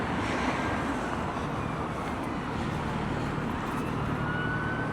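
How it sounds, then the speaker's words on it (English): A police siren sounds far off in a busy Blackpool street on Boxing Day, its faint wailing tones riding over steady traffic and crowd noise. "I hear a siren."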